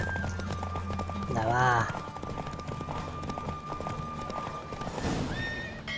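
Horse hooves clip-clopping at a gallop with a loud neigh in The Witcher 3, a video game, as people talk over the game sounds and music.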